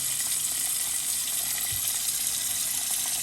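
Steady rushing of water pouring into a cooking pot of beef rib bones, a continuous close splashing stream with no talking.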